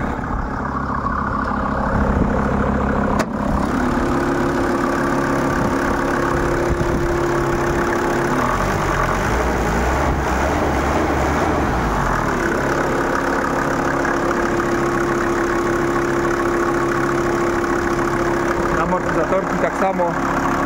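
A Mercedes W124 E250 diesel engine idles steadily nearby with the bonnet open, a continuous low throb holding level for the whole stretch with a faint tonal hum, no talk over it.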